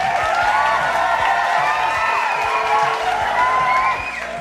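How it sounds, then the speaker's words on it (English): An audience at the B-Side Festival in Portland applauds and cheers for two artists, a dense, continuous wash of clapping with whoops rising above it, loud and steady before easing slightly at the end. "Please give them both a huge round of applause."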